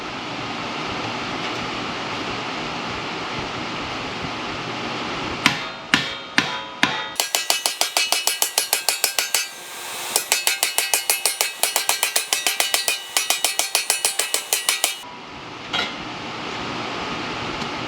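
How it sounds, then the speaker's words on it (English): Sharp metallic hammer blows ring out, first a few spaced strikes, then long rapid bursts of steady pounding, shaping a sheet-metal car footwell floor panel into a cup, loud and close. "we've got to hammer it into a cup shape right here"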